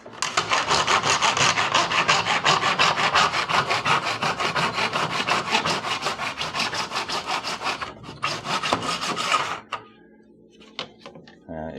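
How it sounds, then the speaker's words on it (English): A hand saw cuts a part for a Harbor Freight Haul Master 5x10 trailer in a miter box, giving loud, close, rapid back-and-forth rasping strokes for about ten seconds before stopping, followed by a few light knocks. "Just hold it in place and cut it."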